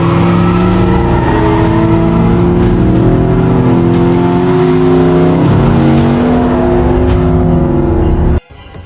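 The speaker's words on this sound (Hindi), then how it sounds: "वह तुरंत अपनी गाड़ी में बैठा और पूरी रफ्तार से जंगल की तरफ निकल पड़ा।" Car engine roaring at full throttle, a loud, sustained high-revving drone with shifting tones as the vehicle speeds away, cutting off abruptly near the end.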